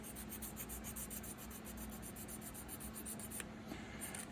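A hand file rasps steadily over a plastic model part for a Hobby Boss M1070 trailer kit, smoothing spots a knife missed; close, continuous scraping strokes with a quiet low hum beneath.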